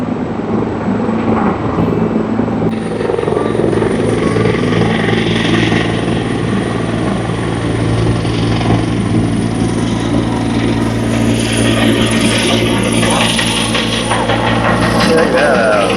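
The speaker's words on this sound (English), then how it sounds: "we got a Coast Guard copter taking off" A Coast Guard helicopter takes off on the Pacific coast near Ucluelet, heard as a loud, continuous rotor and engine rumble with a rhythmic chop, holding steady throughout.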